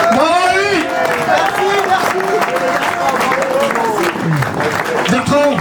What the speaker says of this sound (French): Je voudrais un tonnerre d'applaudissements pour Bertrand Goll qui a gagné ce rallye.